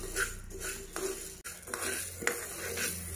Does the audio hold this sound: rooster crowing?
no